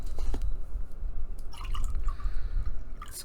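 Clean water dripping and splashing as a paintbrush is rinsed, a few small close drips and trickles over a quiet background.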